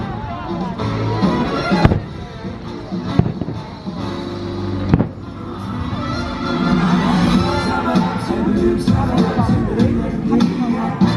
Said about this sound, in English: The fireworks are going off early for Boo Bash tonight.